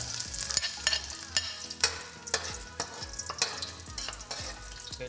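Garlic frying in a pan for Kapampangan-style menudo, a steady sizzle broken by repeated sharp scraping strokes of a spatula as it is stirred, close and fairly loud with no talking.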